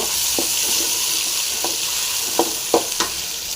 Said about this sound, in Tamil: தக்காளி போட்டிருக்கோம். இது பூண்டு போட்டுடலாம். எல்லாத்தையும் நல்லா ஃப்ரை பண்ணிடலாம்.